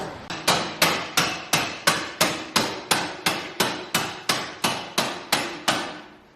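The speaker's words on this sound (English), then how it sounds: "found the hammer finally" Metal hammering on a bolt, around seventeen sharp ringing strikes at a steady, brisk rhythm, loud and close, each blow trailing off quickly.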